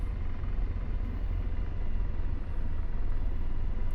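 Apache attack helicopter settling onto the ground in the DCS flight simulator game, a steady, loud rotor and turbine roar filling the whole stretch without a break.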